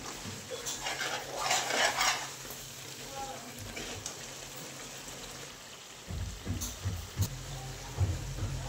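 Food ingredients are stirred and mixed in a pot in a home kitchen, giving repeated scraping and clinking of a spoon against metal, fairly quiet, with heavier knocks in the last few seconds.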